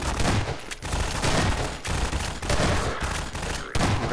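Rapid bursts of Half-Life 2 gunfire crackle loudly and nearly continuously, broken by brief pauses between volleys.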